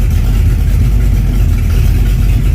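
A Ford Mustang engine that is being timed and tuned idles with a loud, steady low rumble, heard up close with no talking.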